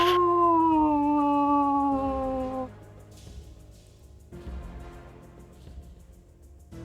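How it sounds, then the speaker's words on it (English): A low, echoing werewolf howl sound effect sustains for about two and a half seconds with a slightly falling pitch, then fades into a quieter rumbling tail that lingers to the end. "hear a low howl"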